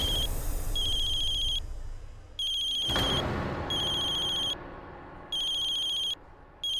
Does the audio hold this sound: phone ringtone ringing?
yes